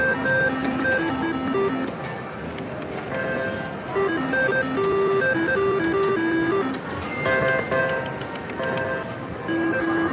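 Double Top Dollar slot machine spinning in a casino, its reels ringing out a steady run of bright electronic chimes and beeping tones over a dense wash of floor noise, loud and continuous.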